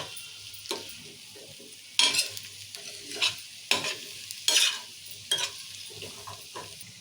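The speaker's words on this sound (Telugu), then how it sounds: "మునక్కాయ వేసినాం కదా, మంచిగా కలుపుకుందాం ఒకసారి" Drumstick pieces are stirred through a tomato masala curry in a pan, giving a low simmering sizzle punctuated by several scraping spoon strokes and clanks, close up and quiet, with no one speaking.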